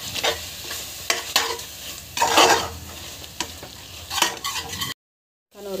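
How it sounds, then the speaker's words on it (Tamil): Curd sautéed in a hot pan sizzles steadily while a spoon scrapes and stirs it in repeated strokes. The noise is close and alone, then breaks off into brief silence. "தேவையான அளவுக்கு கர்டு வந்து ஆட் பண்ணிக்கோங்க. நல்லா வதக்கிட்டுக்கோங்க."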